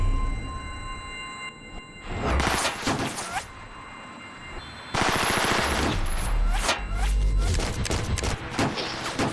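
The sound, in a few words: gunfire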